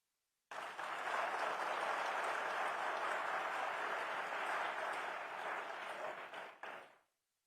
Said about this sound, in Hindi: बच्चों की ताली कुछ बाद में बज रही है।